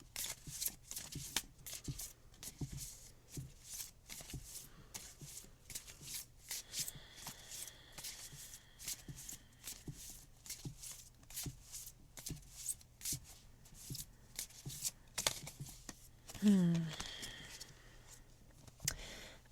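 Cards from Gabrielle Bernstein's Super Attractor oracle deck are shuffled by hand in a long run of soft, papery riffles and slides at close range, steady and quiet with no talking.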